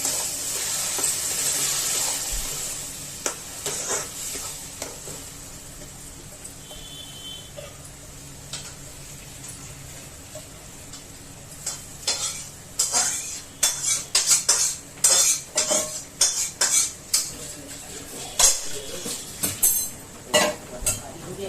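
Tomatoes are stirred into fried onions in a pan, with a metal spoon clinking and scraping: sparse at first, then a quick run of sharp, close strokes over a light sizzle.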